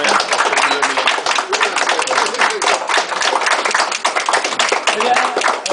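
Applause from a dinner audience, steady dense clapping throughout at close range, with voices murmuring underneath.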